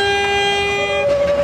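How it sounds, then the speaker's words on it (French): A train horn sound effect plays in a song about a radioactive locomotive, a steady sustained toot that shifts pitch partway through, loud and alone with no talking. "Attention, vous allez entendre devant le train."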